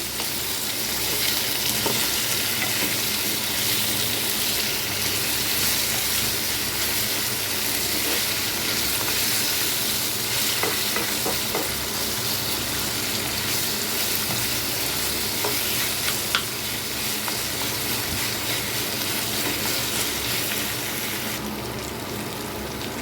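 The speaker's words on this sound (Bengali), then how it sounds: "এখন আমি আমড়াটাকে হালকা একটু ভেজে নেব" Boiled hog plums frying lightly in oil with garlic for a sweet-sour pickle give a steady, dense sizzle that runs unbroken and fairly loud for the whole stretch, with occasional soft stirring clicks and no voices.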